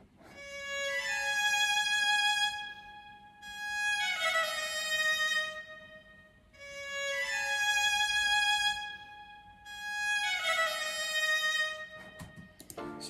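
A high, bright Macedonian woodwind-like melodic phrase from a Balkan ethnic sample, with a reedy, string-like timbre, played alone and unprocessed in four swelling repeated phrases, fairly loud and clear.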